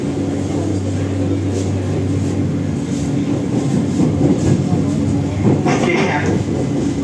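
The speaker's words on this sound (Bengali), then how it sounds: "আমাদের এই ট্রেনও নোয়াপাড়ার দিকে যাচ্ছে" A Kolkata metro train runs toward Noapara with a continuous rolling rumble and hum that stays steady throughout, and faint voices can be heard inside the carriage.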